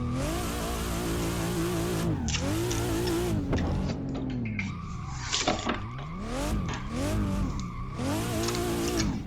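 Simulated BMW drifting on the Bihoku Highlands course in Assetto Corsa, with a loud, continuous engine note rising and falling through gear changes and repeated wavering tyre squeals over the run.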